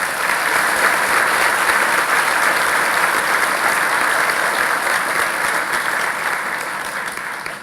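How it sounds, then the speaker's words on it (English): Sustained audience applause at a college commencement ceremony, a dense, even wash of many hands clapping in a large space that holds steady for several seconds before beginning to taper off at the end. "please join me in applauding their many accomplishments and contributions to the academic life"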